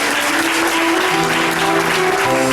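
Guests applaud at a wedding ceremony, a dense burst of clapping that stays loud and steady throughout, with faint tonal sounds beneath the clapping.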